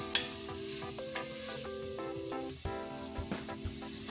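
Vegetables, including potatoes, sizzle and fry in a pan for a vegetarian millet pulao, with a steady crackle broken by a few sharp clinks and scrapes of stirring, close and alone with no voices.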